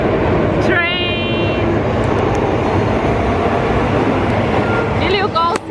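A train passes close by in Bangkok, its steady, loud rumble filling the whole stretch while squealing wheel or horn tones break through near the start and end.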